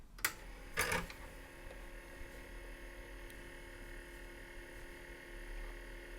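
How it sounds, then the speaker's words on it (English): Atari 810 floppy disk drive rebuilt from broken parts, starting up: a couple of sharp clicks and a brief mechanical burst early on, then a quiet steady hum. "let's start the disk drive"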